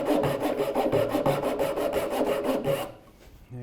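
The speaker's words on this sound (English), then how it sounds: "I would saw that down to 2/3 of the way." Wood being hand-sawn for a captain's chair, a close, rasping run of even back-and-forth strokes that stops near the end.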